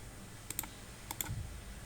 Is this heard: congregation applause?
no